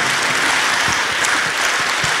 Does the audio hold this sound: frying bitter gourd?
no